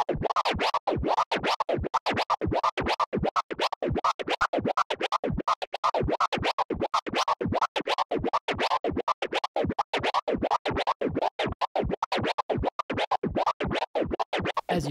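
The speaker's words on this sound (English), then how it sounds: "As you start the orbit scratch like this, that's how I figured out how to do the orbit scratch." Orbit scratches on a DJ turntable repeat in a fast, even back-and-forth rhythm, each stroke a sharp, close, loud record scrape, running continuously without any voice.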